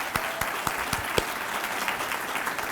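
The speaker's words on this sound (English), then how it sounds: "Let's give a round of applause to our wonderful leader" Applause at the inauguration of a new leader, a steady crowd clapping with a few sharper individual claps standing out near the start, continuous and fairly loud with no speech.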